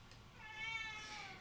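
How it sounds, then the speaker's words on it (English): A cat meows indoors, one drawn-out, rising and falling call that is fairly faint and close, with quiet room tone behind it. "Oh, kitty cat."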